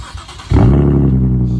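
A Nissan 370Z exhaust suddenly bursts into a loud, close rev and holds a steady, deep roar, recorded right beside the tailpipe.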